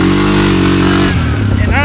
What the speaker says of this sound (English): you can almost hear the engine finally start to kick in at about 10 miles per hour